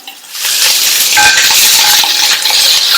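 Finely chopped onion with curry leaves and dried red chilli sautéing in a pan for a radish side dish, giving a loud, steady sizzle with scraping and stirring clinks throughout.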